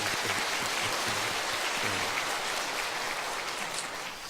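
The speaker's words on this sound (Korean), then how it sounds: "우리 한번 격려하는 마음으로 박수 한번 하십시다." Church congregation applauding together at a Sunday service, a steady broadband patter of many hands held at an even level throughout and tapering slightly at the end, with faint low voices underneath.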